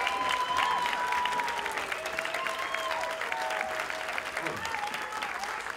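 Sustained applause from a crowd at a tango performance fills the whole stretch, dense and steady, with a few whistle-like tones rising over the clapping.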